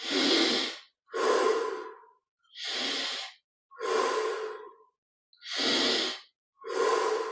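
Slow, deep breathing during a guided yoga meditation, with six long airy breaths alternating between inhales and exhales, each separated by a brief silence, close and alone with no talk.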